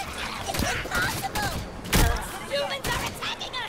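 Gunfire in a Halo 5 Guardians firefight against Covenant enemies, a run of sharp shots and heavy thuds with one louder blast in the middle, mixed with game effects and speech-like sounds.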